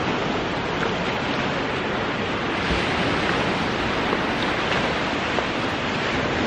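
Steady surf rolling in at Bingin Beach, Uluwatu, Bali: a continuous broadband roar of waves with no clear pauses, loud and close, with some wind mixed in and no talking.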